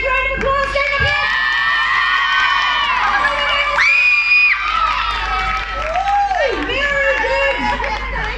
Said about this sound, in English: Where's that big round of applause?